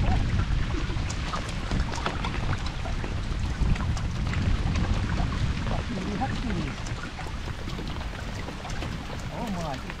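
A rain shower begins while paddling in Kolovesi national park: dense, steady patter of drops on water and rain gear, close and continuous, with rustling and paddle handling noise throughout.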